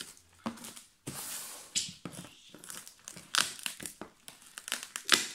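Packaging on a parcel holding a drone being unwrapped by hand, with close, irregular bursts of crinkling and crackling plastic and some tearing, broken by short quiet gaps.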